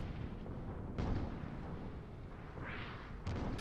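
Airship guns fire during a sky battle in a video game, heavy booming shots and rumbling blasts over a dense low roar, with a couple of sharper bursts standing out.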